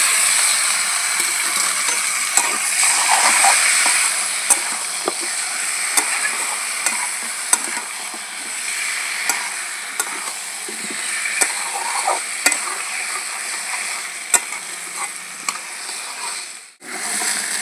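Potatoes sizzle and hiss steadily in hot oil in a wok, with scattered scraping and clinking as they are stirred.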